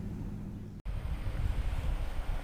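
Waves wash onto a UK beach in a steady low rumble mixed with wind buffeting the microphone, broken by a brief dropout before the surf noise resumes.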